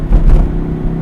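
A 1956 Porsche 356A Coupe rumbles at low pitch while driving, engine tone steady and close for a brief moment.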